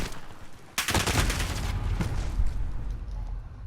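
An EBR-14 marksman rifle in Call of Duty: Modern Warfare fired from the hip, one sharp loud report followed by a string of quicker echoing shots over steady background noise.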